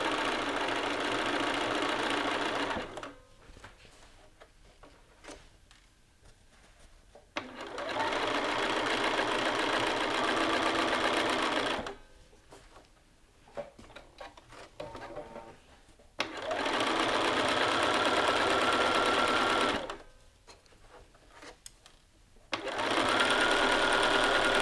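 Sewing machine stitching jacket lapels: long steady motor whir in several runs of a few seconds each, stopping and restarting with quieter handling gaps between, close and prominent.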